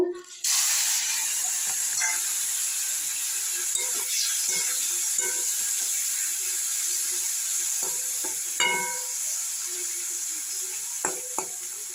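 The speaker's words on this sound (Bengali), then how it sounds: "এবার আমি চিংড়ি মাছগুলোকে কড়ার মধ্যে দিয়ে দেবো, দিয়ে আমি ভেজে নেব।" Prawns hit hot oil in a kadai on a gas stove and fry with a loud, continuous close sizzle, broken by occasional stirring clatters and spatter pops.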